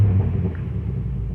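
Low, steady exhaust rumble from a 2023 Ford Bronco Heritage with the 2.3L EcoBoost and a FlowMaster FlowFX muffler, idling close by with a mellow, even drone and no popping.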